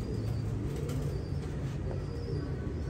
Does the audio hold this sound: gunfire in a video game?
no